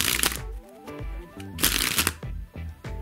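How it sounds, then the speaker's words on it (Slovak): A bent deck of playing cards springs out from the bottom as the thumb slowly releases, giving rapid rattling flutters in several short bursts, close and clear with no talking. "pomaly púšťate palec a tým vám začnú tie karty vyletávať zo spodu"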